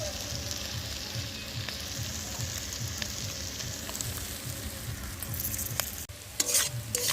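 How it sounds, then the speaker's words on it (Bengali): Fried potatoes and snails with onion are stir-fried together in a pan, giving a steady sizzle with a scraping, stirring rhythm that continues throughout. "তা আলু ভাজাগুলো এবার গুগলি দিয়ে একসাথে করে নিচ্ছি কষা কষা।"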